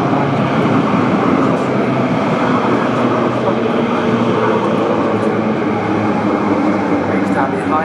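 A train pulls into the Custom House platform with a steady, loud rumble and rail hiss lasting throughout, no distinct breaks, in an enclosed station setting.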